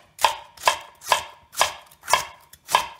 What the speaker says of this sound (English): cut the vegetables here